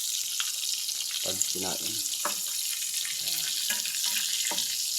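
Chicken blood frying in hot oil while making chicken oil for a native-chicken adobo, a steady bright sizzle hissing throughout, with a person talking briefly over it.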